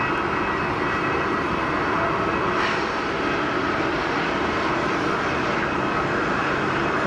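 A TAP Airbus A321neo jet on approach near Geneva Airport: a continuous broad engine roar and rumble, steady and fairly loud throughout, with no voices.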